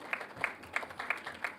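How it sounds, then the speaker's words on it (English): Round of applause at a productivity forum, heard as about six evenly spaced, crisp claps in a steady rhythm, moderately distant and fairly quiet, with no talking. "I think that deserves a round of applause to our team as well as our interns."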